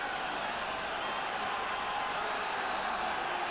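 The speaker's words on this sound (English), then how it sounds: "Now the crowd have raised their voices again as Newcastle United get us away at the start of the second half." Football crowd at Newcastle United versus West Ham in November 1986, a steady wall of massed voices raised at the start of the second half, distant and unbroken throughout.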